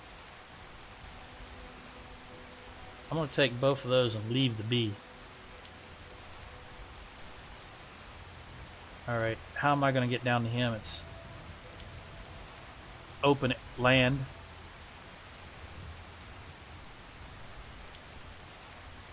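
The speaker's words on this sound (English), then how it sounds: "I'm standing in the rain" Steady rain hiss falls in the video game Skyrim, a constant even wash of noise throughout, with someone talking in three short bursts over it.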